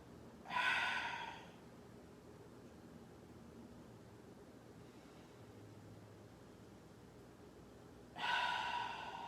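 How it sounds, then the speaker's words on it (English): A deep exhale during Kemetic yoga, two loud breathy rushes of air near the start and end, separated by quiet room hiss. "And you should hear your exhale."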